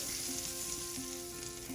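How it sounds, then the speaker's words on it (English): Steady, close sizzling and crackling of butter frying in a hot pan, continuous with a faint rhythmic hum underneath. "You can hear that sizzling"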